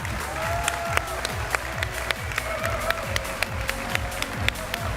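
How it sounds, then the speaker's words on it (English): A large conference keynote audience applauds as partners stand up, continuous crowd clapping with scattered sharp claps and a few whoops, moderately loud and diffuse across the hall. "please get up and give them a very big round of applause"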